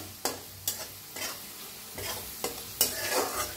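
Chillies being dry-roasted in a pan for Ekadashi sabudana khichdi, with a soft sizzle under sharp, repeated scrapes of a spatula stirring every half second or so, close and fairly quiet, with no talking.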